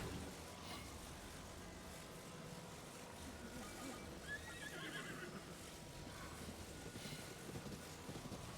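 A horse in the video game Zelda: Tears of the Kingdom gives a faint neigh midway through, with soft hoof clip-clop under steady game ambience and music.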